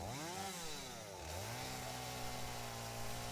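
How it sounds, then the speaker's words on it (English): Chainsaw from the video game Satisfactory, a steady buzzing engine drone that dips and revs back up near the start, then holds a constant loud whine to the end, with no talking. "still use the chainsaw"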